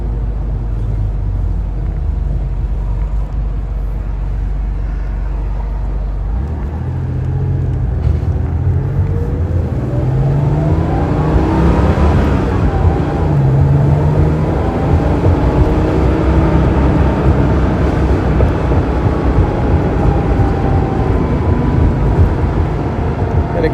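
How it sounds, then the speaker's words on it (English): A 1989 Porsche 930 Slantnose Cabriolet turbo engine drones steadily while driving with the windows down, with a rising whine as the turbo spools up midway, loud and close under road rumble. "leave the windows down so you can hear the beautiful sound of that turbo as it spools up as we leave town"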